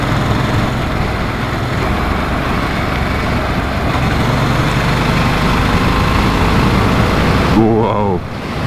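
Harley-Davidson Sportster S motorcycle engine pulling steadily while riding through corners on a bike with a very large front tyre, a continuous loud drone with wind noise that rises in pitch briefly near the end.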